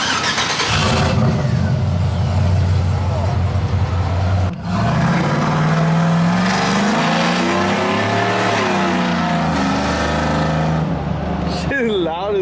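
A Z71 Chevy Silverado truck with long tube headers and a dump exhaust starts up and idles with a loud deep rumble, then revs several times with a rising and falling roar, close by and alone without talk.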